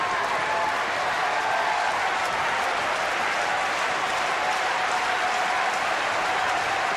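Spectators at a Paris 2003 table tennis semifinal applaud steadily, a dense, even wash of clapping sustained throughout with faint crowd murmur beneath it.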